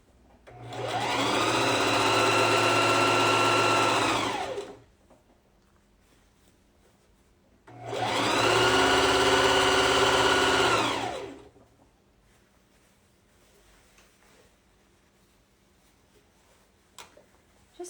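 A sewing machine stitches the deep hem of a dress in two steady whirring runs of about four seconds each, separated by a quiet pause, with faint ticks afterward.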